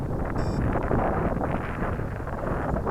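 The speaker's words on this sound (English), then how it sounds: "Now the wind has picked up. Now we have a lot more wind than before." Strong wind buffets the microphone at an outdoor field where an RC gyrocopter is being flown, a loud, continuous roaring rumble with no pauses across the few seconds.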